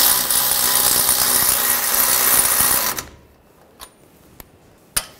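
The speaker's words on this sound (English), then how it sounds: "Tighten these down." A power tool runs hard for about three seconds, driving in the front wheel hub bolts on a 2006-2010 BMW 550i, then cuts off, leaving near silence broken by a few sharp metallic clicks.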